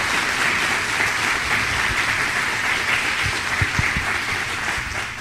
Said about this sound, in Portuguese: E vamos dar um forte aplauso a todos eles.